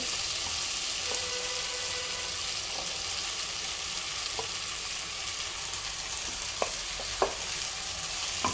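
Rice is added and stirred into cooked-down tomatoes in a pan for tomato rice, giving a soft steady sizzle with occasional faint scrapes and clicks of a spoon throughout.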